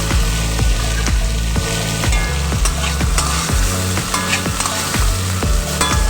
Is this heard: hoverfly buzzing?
no